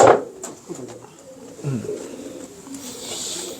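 Pigeons cooing softly at close range, a few low throaty coos spread across a few seconds with faint background noise and no talking.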